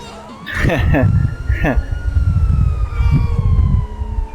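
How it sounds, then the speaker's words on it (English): A police car siren in GTA 5 wails steadily in the background while a loud voice speaks in short bursts over it. "How do I turn off the siren?"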